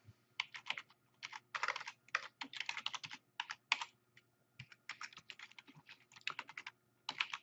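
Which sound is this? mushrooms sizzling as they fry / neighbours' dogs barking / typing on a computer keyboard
typing on a computer keyboard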